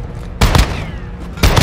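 Gunfire in Call of Duty Giant Infected mode: two loud, close bursts of shots, each about a quarter second long, one second apart, over low background rumble.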